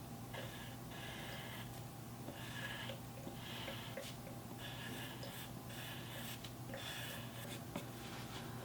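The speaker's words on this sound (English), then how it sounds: "So I just write that out in calligraphy." A pen scratches out calligraphy on an envelope in short, soft bursts of strokes separated by brief pauses, close and quiet against a low background hum.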